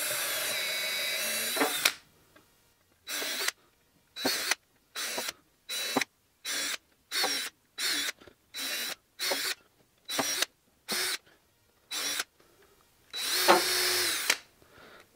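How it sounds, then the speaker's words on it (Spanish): A power drill bores holes through wooden boards of a bunk bed, running in about a dozen short bursts separated by brief pauses, with a longer run at the start and end, close and loud. "Primero voy a hacer los agujeros porque las tablas no se mueven."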